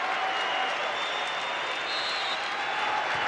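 A crowd at the 1998 NCAA women's volleyball championship between Long Beach State and Penn State cheers and applauds in a dense, sustained roar that fills the whole stretch without dropping off.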